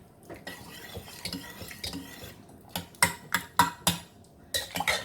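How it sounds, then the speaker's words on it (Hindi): A spoon stirs and mashes boiled potatoes in gravy for a Sindhi-style fasting potato curry in a metal pan, with soft scraping and then a run of sharp, close clanks against the pan. "अब हम इसे थोड़ा अच्छे से इस तरह से घुमा लेंगे, ताकि थोड़े से आलू हमारे अच्छे से मैश हो जाएं।"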